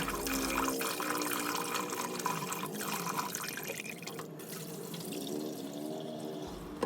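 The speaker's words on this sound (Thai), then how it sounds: "ล้างเอาสีเหลืองที่เคลือบผิวถั่วออกให้หมดให้เกลี้ยง จนน้ำใสสะอาดเลยค่ะ" Water runs and splashes in a bowl as split mung beans are rinsed by hand to wash off their yellow coating, a steady close, moderately quiet wash of liquid sound with no voices.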